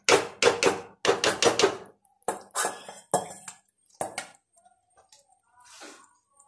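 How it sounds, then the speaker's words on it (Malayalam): A metal lid clatters onto a pot of chicken biryani in a home kitchen, giving a quick series of sharp close clanks and scrapes that thin into a few softer knocks, with no talk over them. "മൂടി വെക്കുക."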